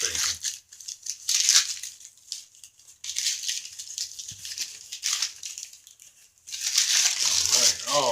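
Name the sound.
opening a cardboard-wrapped gift package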